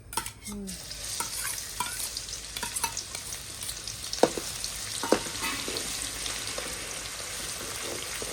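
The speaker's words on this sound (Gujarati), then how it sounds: "તો તેલ ગરમ થઈ ગયું છે. હવે આપણે નાખી દઈશું એમાં લસણ, લીલું મરચું અને આદુ, 3 વસ્તુ." Garlic, green chili and ginger drop into hot oil for a mutton curry, a quick burst of sizzling and stirring followed by a steady frying crackle with occasional clinks of the spoon, and no talking.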